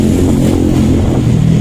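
A Vespa Sprint Matic scooter engine idles and revs with a low, steady burble through a stock exhaust, close and loud.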